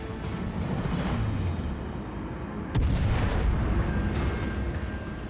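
Heavy cruiser guns fire in the World of Warships naval game, with loud booming salvos and rumbling blasts rolling over a dense, noisy battle background.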